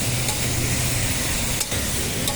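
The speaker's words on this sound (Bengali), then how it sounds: "সুন্দর করে পটলটাকে ভাজছি।" Pointed gourd (potol) frying in a pan with onion and garlic gives a steady, close sizzle and crackle with occasional stirring scrapes, continuous throughout.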